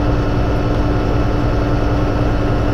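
A tractor engine runs at a steady, constant 1300 rpm, a loud continuous drone with a firm low hum and no other sounds.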